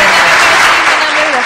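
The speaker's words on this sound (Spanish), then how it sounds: "Un aplauso" An audience claps in a loud, dense burst of applause, with voices carrying over the clapping throughout.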